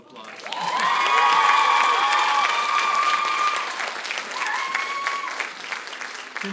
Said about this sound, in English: Everyone give Andrew another round of applause.